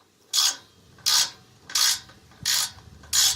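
A small gazebo screw is turned by hand with a screwdriver, five evenly spaced rasping ratchet-like turns, close and clear with no talking.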